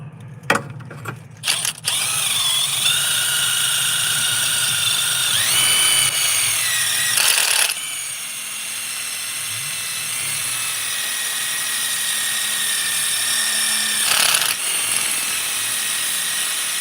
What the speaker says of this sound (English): Here we go, back with the wire wheel.